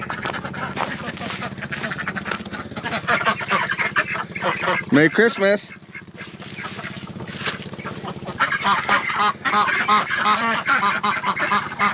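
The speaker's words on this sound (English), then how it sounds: "Let's see what the ducks say." A flock of ducks and geese at a pond honks and quacks continuously, fairly close, with people talking briefly over the birds.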